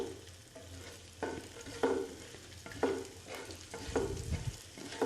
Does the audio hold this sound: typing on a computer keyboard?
no